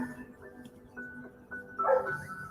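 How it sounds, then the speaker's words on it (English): A neighbor's dog barks in the background, a few distant yaps rising briefly near the end over a low room hum. "Hear a neighbor's dog barking out in the background."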